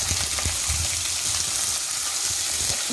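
Sliced onions and salt fry in a pan for crab thoran, giving a constant bright sizzle with soft, irregular scrapes and thumps from stirring underneath.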